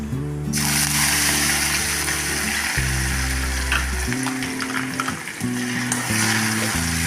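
Asafoetida, ginger-garlic paste and chili sizzle in hot oil while cooking a Gujarati mung bean curry, a steady close frying crackle throughout with low background hum and no talk.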